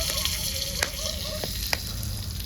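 Amul butter sizzles steadily in a hot pan while frying, a continuous crackling hiss with a few sharp pops and faint stirring.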